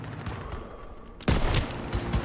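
Gunfire in the World War II shooter Call of Duty WW2 breaks out abruptly as a loud, dense volley after a quieter stretch of battlefield ambience, continuing to the end.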